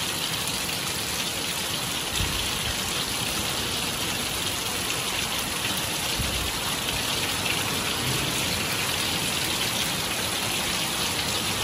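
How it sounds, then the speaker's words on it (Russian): A heavy downpour with dense, steady hissing rain that pours continuously and loudly throughout, with no voices. "Ливневка не выдерживает, прикиньте. Просто льет."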